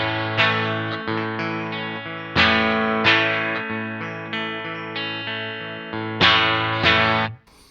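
Electric guitar strummed and picked through an effects chain with the compressor pedal off, a sequence of ringing chords with clear attacks and decays and uneven loudness between strums, ending abruptly.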